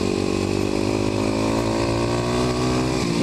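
Kawasaki KLX250sf supermoto motorcycle ridden offroad on a forestry road, its single-cylinder engine droning steadily and loud close up, with wind rush and no talking.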